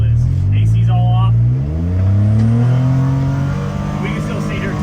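A Polaris Ranger 1500 side-by-side with an RPM SxS sport muffler and header revs up sharply, falls back, then climbs again to a sustained, fairly loud but smooth engine drone, close by.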